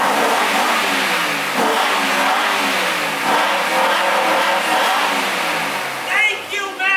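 A dirty, everyday-driven sports car's engine revs and roars loudly and steadily for several seconds, with someone speaking over it.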